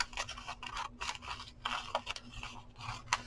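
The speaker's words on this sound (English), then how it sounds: "I'm going to cut that part out right now." Scissors snip through paper in a series of close, crisp cuts with small rustling and scraping between them, while a faint steady hum runs underneath.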